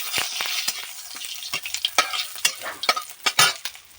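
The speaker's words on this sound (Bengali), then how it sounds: "দিয়ে দিচ্ছি জিরে ফোড়ন" Whole cumin seeds crackle and sizzle in a little hot oil in a kadai, with sharp irregular pops over a soft frying hiss, close and moderately loud.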